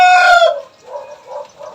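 A rooster crows loudly and close, one strong harmonic call that trails off, followed by a few softer low clucks from chickens, no voices.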